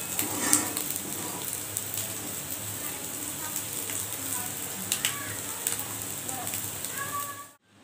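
Puti fish frying in hot oil, a steady loud crackling sizzle with sharp pops throughout, close by, cutting off abruptly at the very end.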